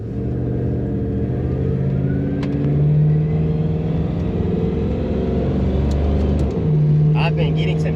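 A Ford Mustang S550 fitted with an On3 top-mount twin turbo kit drives with a steady, close engine rumble that rises and falls through gear changes, and a brief sharp burst of higher noise near the end.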